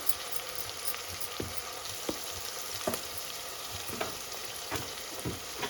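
Goat head curry with spices sizzles in a pot while being mixed, a constant bright frying hiss with regular scraping strokes of the spoon every second or so.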